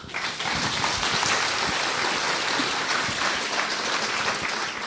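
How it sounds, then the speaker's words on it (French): A large audience applauds a lecturer at an evening talk, dense steady clapping filling the whole stretch at a fairly loud, even level with no voices over it. "applaudissez-le."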